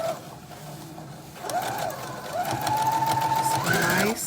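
A sewing machine runs a straight stitch along fabric for a cozy fall wrap. After a quiet opening it starts up, and its steady whirring motor rises and holds at a higher pitch through to the end.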